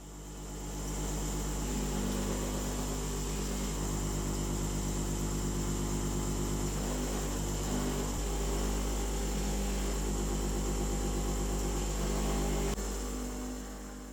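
A sand buffing wheel running in a Sheffield silversmith's workshop, giving a steady loud motor hum and whirring drone with a constant tone and no break, and no voices over it.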